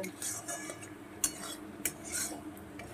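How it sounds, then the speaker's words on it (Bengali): Metal spoon scraping and clinking in a pan while egg and potato curry ingredients are stir-fried with salt and sugar, quiet and close, with a couple of sharp taps against the pan and a faint sizzle beneath. "এবার সব উপকরণ একসঙ্গে আমি সুন্দর করে কষিয়ে নেব।"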